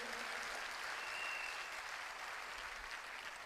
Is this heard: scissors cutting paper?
no